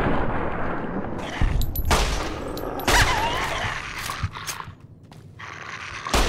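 Gunfire in the video game Fallout: New Vegas, several loud, sharp bursts and crackling shots with short gaps between them, close and dominant, with faint game sounds in the background.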